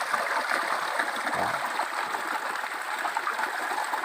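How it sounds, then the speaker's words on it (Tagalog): Small creek flowing steadily, a continuous close trickle and babble of water with no voices. "maliit lang na sapa"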